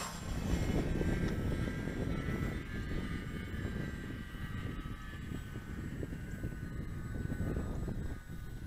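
E-Flite Valiant 1.3 electric RC airplane motor running, a steady buzzing drone with a high whine held throughout, fairly faint and continuous with no talk.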